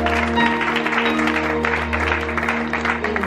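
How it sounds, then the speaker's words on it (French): Church congregation applauding during a service, sustained clapping from many hands over a steady low hum, held at an even level throughout. "il y a un applaudissement"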